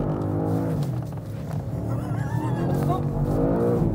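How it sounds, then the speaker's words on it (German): A BMW M5 G90 and an Audi RS7 Performance drift side by side. Both engines hum loudly and steadily, with sweeping tire squeals rising over the rumble throughout. "Wir driften jetzt noch zu zweit, komm."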